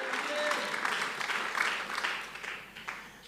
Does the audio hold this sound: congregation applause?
yes